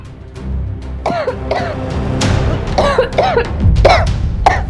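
A woman coughs repeatedly in harsh, throaty bursts, several close fits spread over a few seconds and loud against a faint room background.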